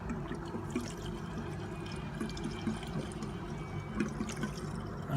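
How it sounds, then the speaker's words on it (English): Two-stroke fuel mix trickling into the tank of a Stihl MS 180 chainsaw, a steady close liquid gurgle and splash running for several seconds with no talking. "So put a little bit of fuel in there."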